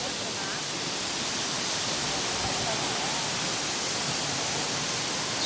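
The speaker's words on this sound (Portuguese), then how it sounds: "As cachoeiras." A waterfall at Pé da Serra in Barra do Garças, Mato Grosso, roars as a steady, dense wash of rushing water that stays loud and unbroken from start to finish.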